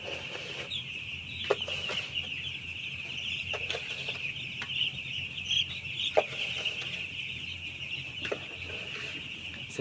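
Broiler chickens in a crowded poultry house of around 40,000 birds, steady soft clucking and murmuring from the flock with occasional sharper individual calls, a constant high hum running beneath, no voices.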